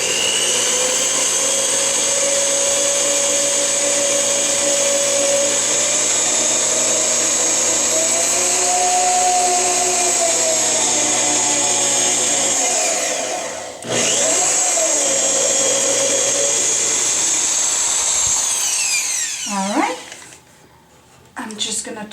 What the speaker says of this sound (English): start drilling right here, perpendicular, nice and straight